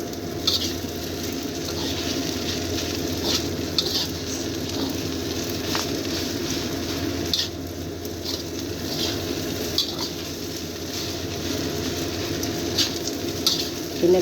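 Leftover fried rice with fried chicken, spring onion and fried shrimp in egg being stirred in a pan, a steady close sizzle with scraping and clinks of a utensil throughout, no talking.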